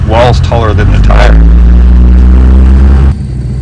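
Jeep on 42-inch tires crawling up a rock wall taller than the tires at Trail Hero 2023, its engine a loud, steady low drone that cuts off near the end, with a voice talking over the start.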